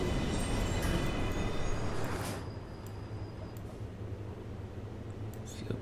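A commuter train rolls along in the OMSI 2 simulation on a SEPTA line, its wheels and motors giving a steady rumble that drops to a quieter hum partway through, with faint squeals.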